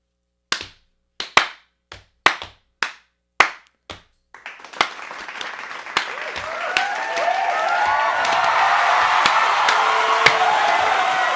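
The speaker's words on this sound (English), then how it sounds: "I'm gonna clap so I can match it up." Several sharp single hand claps in quick succession used to sync a podcast recording, crisp and close with short decays, followed by a building wash of chatter and room noise as people start talking.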